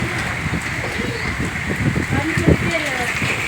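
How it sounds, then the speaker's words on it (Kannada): Heavy wind-driven rain pours down steadily and loudly nearby in a dense, hissing wash of sound, while a person talks over it throughout. "ಗಾಳಿ ಗಾಳಿಗೆ ಮಳೆ ಬಂದು ನೋಡಿ ಜೋರ ಬಂತು ರೀ"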